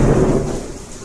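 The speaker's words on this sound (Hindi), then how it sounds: "ये देखो भाई कैसे बिजली कड़क रही है" Loud rumbling thunder during heavy rain outdoors, a single deep roll that is strongest at the start and fades over about a second, with no talking.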